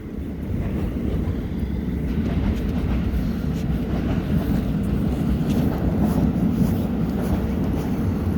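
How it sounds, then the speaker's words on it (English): A train in New York City rumbles steadily past as it departs, a continuous low heavy roar with some wind buffeting, no voices. "Look at that, the train taking off."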